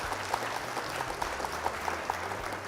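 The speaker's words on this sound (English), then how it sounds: "Round of applause for you." Applause after a Flesh & Blood card game match, a brief round of light clapping from a few people, fairly quiet and steady.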